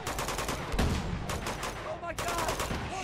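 Rapid automatic gunfire rattles in dense, continuous bursts during a firefight in the Uncharted 2: Among Thieves video game, loud throughout with a short break just past the two-second mark.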